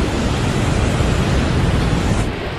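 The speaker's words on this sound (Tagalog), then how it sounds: "Grabe ragasan ng tubig." Strong rushing water current at Cong Dadong Dam on Mt. Arayat, a loud, dense, steady roar that fills the whole clip without a break.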